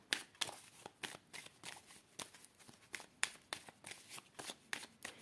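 Tarot cards are shuffled by hand close up, a quick irregular series of soft riffling slaps and flutters with no voice.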